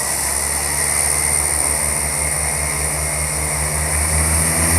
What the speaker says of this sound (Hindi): ये देखिए तारा एयर का ये एयरक्राफ्ट अभी टेक ऑफ करने वाला है।